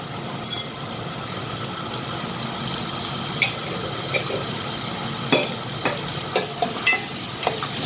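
Finely chopped onion with asafoetida fries steadily in a pan with a constant close sizzle, while a few brief spoon scrapes and clinks break through now and then.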